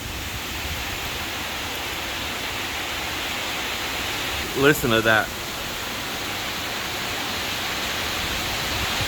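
Tropical storm at night with big waves on an unseen seashore: a constant, loud broadband roar of surf and wind throughout, with a brief spoken comment in the middle.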